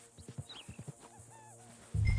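A spooked white horse whinnies in Red Dead Redemption 2, a rising, wavering neigh in the middle of the clip after a few soft low thumps, followed by a sudden loud low rumble at the end.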